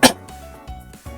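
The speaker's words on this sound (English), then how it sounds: "sorry if I'm coughing a bit" A single sharp cough bursts out at the start, quickly followed by a softer throat sound amid background music.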